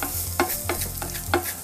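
Vegetable tomato sauce sizzles loudly in a pan, the steady frying hiss broken by three distinct stirring scrapes spaced roughly every half second.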